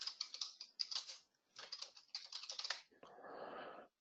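Computer keyboard typing in bursts of quick clicking keystrokes, close and fairly quiet, while a title is entered into a template in practice-management software, followed by a brief softer rustle near the end.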